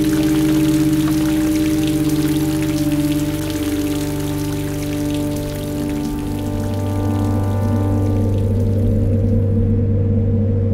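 Rain and wind sweep across New Zealand hunting country in a dense, continuous wash of falling drops and gusting air, loud and close, easing slightly toward the end.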